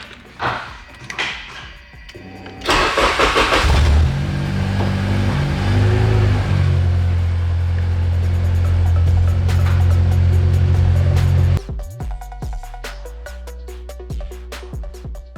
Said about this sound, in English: And now I will start the car, show you guys that it works.